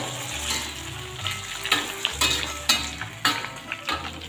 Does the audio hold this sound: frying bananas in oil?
yes